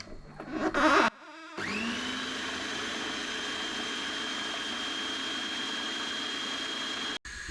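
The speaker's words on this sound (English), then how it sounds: "you give it one final blast in the food processor" Food processor whirring steadily as it blends a fishball mixture, spinning up after a brief start and holding a loud, even motor whine until it cuts off.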